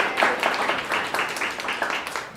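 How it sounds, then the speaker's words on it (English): An audience at a business presentation gives a round of applause, a short burst of scattered hand claps that starts loud and tapers off. "I'd like to give him a round of applause"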